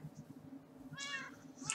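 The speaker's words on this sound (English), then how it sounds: "Do you see my cats?" Minecraft cats meow in a clear cluster near the middle, followed by a brief squeak at the end, close and distinct over a quiet background.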